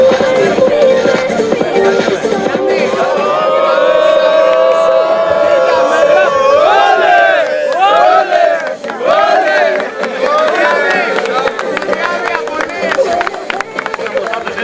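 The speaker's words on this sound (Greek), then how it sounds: "Χειροκρότημα, έλα αγαπητός" A crowd at a medal presentation ceremony cheers and whoops loudly and steadily, with a dense swell of voices rising and falling throughout while people shout over it.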